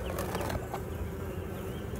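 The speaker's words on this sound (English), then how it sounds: "We still have bees working up and down through here." Honey bees buzzing around frames of an open hive, a steady close drone with wing flutters and a few brief rustles.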